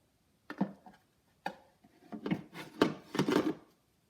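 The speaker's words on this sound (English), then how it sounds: "I'm going to slide it right into this little slot right here." Wooden Attack From Mars Arcade1Up pinball cabinet piece sliding into a slot, giving a few separate close knocks and rubbing scrapes, then a busier stretch of scraping and bumping as the panel seats.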